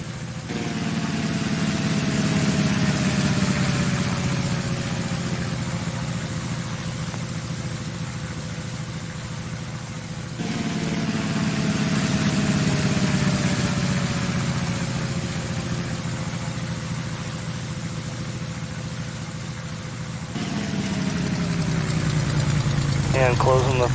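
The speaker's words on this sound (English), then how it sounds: "Oh, I love the sound of that motor." Piston aircraft engine of a Carena in the flight simulator FS2004, droning steadily at a constant pitch in two long passes with a brief change between them, loud and continuous.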